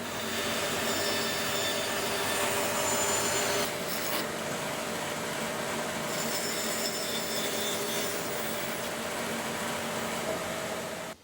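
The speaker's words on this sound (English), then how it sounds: "then I can get everything cut on the bandsaw" Bandsaw cutting pieces of wood, a continuous dense rasping hiss with a steady machine whine underneath, loud and close, with brief changes as the blade works through the stock.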